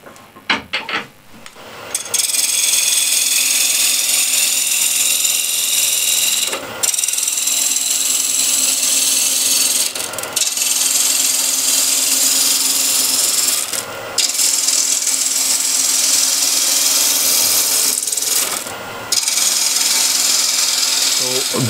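A wood lathe turns a walnut wig stand, the tool rasping steadily against the spinning wood near at hand with a few brief pauses, and no one speaking over it.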